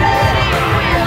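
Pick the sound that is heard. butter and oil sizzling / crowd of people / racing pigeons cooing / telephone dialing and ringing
crowd of people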